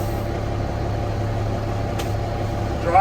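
M1078 LMTV military truck engine idling after start-up, a steady low diesel drone heard up close and alone, with a brief faint click partway and a small swell at the very end.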